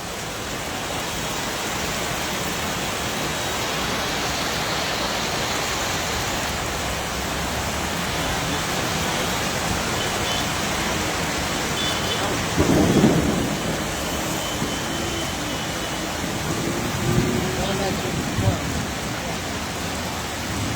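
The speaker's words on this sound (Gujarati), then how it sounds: "વીજળીના કડાકા ભડાકા સાથે મેઘરાજાની તોફાની બેટિંગ" Heavy evening downpour with lightning strikes over city streets, a loud, constant roar of rain with a sharp thunder crack and a later rumble rising above it.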